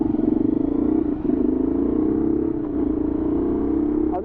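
A motorcycle fitted with a changed silencer and washer runs steadily while being ridden, its engine a continuous close, even drone with a slight rough pulse throughout.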